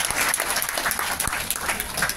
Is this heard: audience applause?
yes